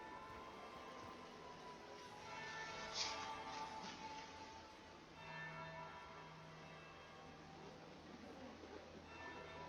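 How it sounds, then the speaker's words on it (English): A church bell tolls in Dragon Age Inquisition, faint and distant, with one stronger strike early on, set against a low, steady ambient hum of a gathering. "That would be the second bell."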